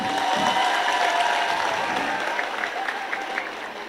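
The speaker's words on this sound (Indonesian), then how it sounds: "tepuk tangan untuk Mas Gibran." An audience claps in a hall for Indonesia's Vice President at a formal gathering, a steady wash of applause that stays loud throughout and fades slightly toward the end.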